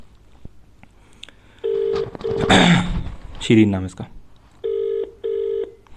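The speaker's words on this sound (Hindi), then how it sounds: "कॉल कर रहे हैं, कॉल लग रहा है" An outgoing phone call rings back in two evenly spaced tone bursts, following a stretch where a person speaks close by and a shorter earlier tone pulse.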